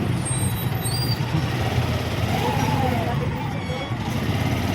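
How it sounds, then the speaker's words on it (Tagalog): A bus passes through heavy, slow traffic with a hiss of air brakes, set against a continuous roar of engines and road noise from nearby vehicles. "Bus!"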